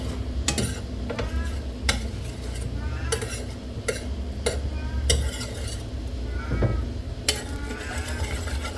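Egg and corned beef frying in a little butter, a steady soft sizzle under repeated sharp clicks and scrapes of a utensil stirring in the pan.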